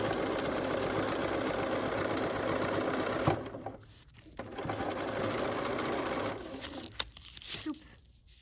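A sewing machine stitches a quilt with a steady, rapid mechanical chatter, pausing briefly midway and again near the end, with soft handling taps between runs.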